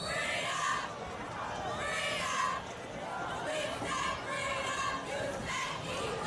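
A crowd in the stands at a high school football game, Freedom vs Hylton, yells and cheers in continuous rolling waves, with voices and chatter mixed throughout.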